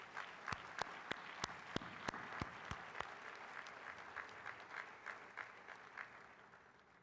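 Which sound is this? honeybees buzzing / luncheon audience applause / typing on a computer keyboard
luncheon audience applause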